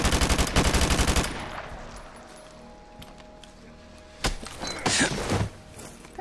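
Automatic gunfire in Call of Duty: Modern Warfare Remastered, a loud rapid burst at the start followed by scattered sharp single shots and impacts against a quieter game background.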